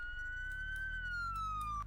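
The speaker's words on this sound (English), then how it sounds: "Do we have a siren at all?" A police car siren in the Roblox game Greenville wails in a smooth, slowly falling electronic tone, clear and continuous for about two seconds over a low rumble, with no speech.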